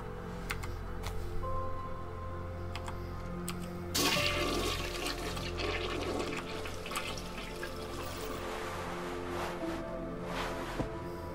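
Steady rush of running water from a shower in Deus Ex Mankind Divided, a constant hiss that swells louder partway through and continues alone beneath a low background hum.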